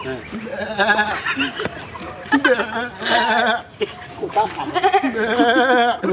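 A voice mimics a goat, giving a run of wavering, nasal bleats across the whole stretch, loud and close, with laughter and chatter mixed in between the calls.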